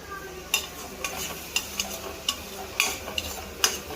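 Ginger and garlic fry in hot oil for a fish curry. A soft, steady sizzle runs under repeated bright clicks and scrapes of a spoon stirring in the pan, and no one speaks.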